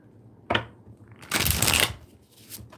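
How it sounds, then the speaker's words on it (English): Tarot cards shuffled by hand up close: a short riffle, then a longer, louder flurry of card shuffling, then a faint final tap. "Let's do 2 more shuffles and then we can get started."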